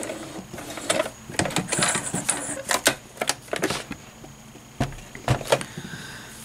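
A sewing machine runs in short uneven bursts while stitching a terry cloth pad, with quick mechanical rattles, pauses between runs and a brief back stitch, close and moderately loud.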